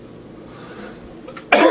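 A single sharp cough bursts out near the end after a stretch of quiet room tone, loud and close to the microphone.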